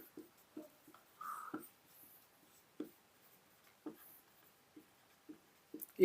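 A pen or chalk strokes across a board in a classroom science lesson: short, faint scratchy taps come at uneven intervals in a quiet room.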